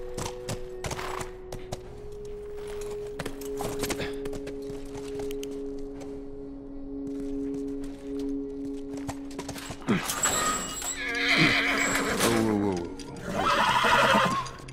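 A horse in the video game The Last of Us snorts and whinnies, with scattered hoof clops, a sustained musical tone and bursts of noisy action toward the end.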